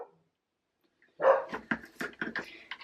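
A dog barks after a second of silence, letting out a quick run of sharp, fairly close barks and yips in an uneven rhythm.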